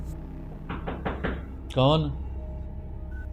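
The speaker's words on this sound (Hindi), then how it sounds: "कमरे के दरवाजे पर किसी ने बाहर से नॉकिंग की।" A recorded knocking on a room door: four quick, evenly spaced raps, followed by a voice calling out a short question, over a faint background hum.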